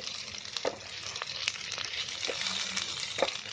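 Onion, ginger-garlic paste and green chillies fry in hot oil with a close, crackling sizzle, broken by occasional sharp pops and spatters and a few stirring scrapes.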